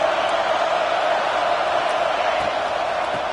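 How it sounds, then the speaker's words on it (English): A packed football stadium crowd roars loudly and without pause, a dense wall of cheering and shouting with scattered whoops rising above it. "This crowd, full throat, splitting the eardrums and letting them know it's going to be a long day"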